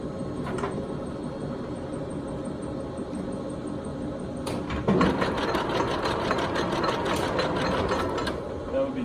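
A large Poreba TPK90 engine lathe runs at 10 RPM, a steady mechanical hum and whir with a rhythmic rattling texture that grows slightly louder midway, with no one talking over it.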